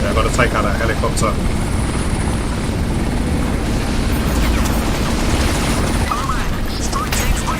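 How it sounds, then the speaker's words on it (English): A steady, loud helicopter rotor drone in a PC video game runs throughout, with a voice talking over it and occasional bursts of distant gunfire. "Take out that helicopter."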